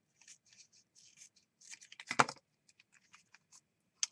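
Scissors trimming paper for a junk journal, quiet snips and soft rustles close up, with a louder cutting crunch in the middle, then a few faint scattered clicks.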